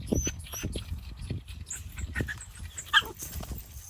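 Russian-breed dogs playing, with scuffling paws, soft snuffles and small yips in quick irregular bursts, close by and with no one talking.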